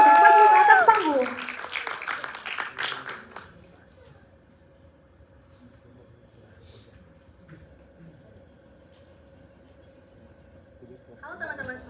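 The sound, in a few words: audience applause for presenters coming on stage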